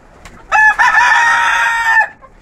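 Hen crying out near its nest, one loud, close, drawn-out call lasting about a second and a half, with no talking over it.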